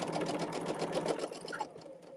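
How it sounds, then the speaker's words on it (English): A sewing machine stitches a quilt seam in one continuous, close, steady run of rapid needle chatter and motor whir, easing off slightly at the end. "I'm just sewing my seam"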